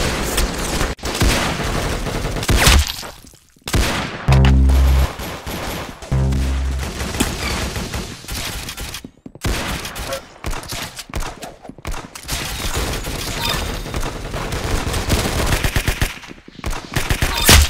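Hand-cannon gunfire in the video game Arsenal cracks in rapid bursts, loud and close, between stretches of dense game noise.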